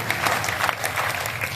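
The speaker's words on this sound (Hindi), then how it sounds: "दोनों हाथ, और जोरदार तालियां बजा दीजिए" A crowd at a Hindi kavi sammelan in Sojat claps steadily all the way through, a dense wash of applause from many hands with no voice over it.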